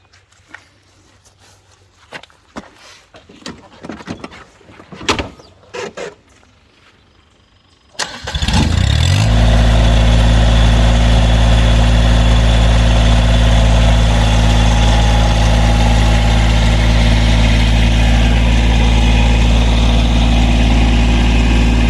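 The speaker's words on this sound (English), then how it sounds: "Let's go ahead and move the tractor away from it." A few clanks and footsteps, then a Massey Ferguson GC1725MB compact tractor engine cranks and roars to life, settling into a loud, steady diesel idle.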